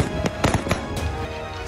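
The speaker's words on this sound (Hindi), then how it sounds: "इस भीड़ को टारगेट कर फिर फायरिंग हुई" Gunfire at Kabul airport amid a crowd: several sharp cracking reports in quick irregular succession, followed by a noisy, echoing background.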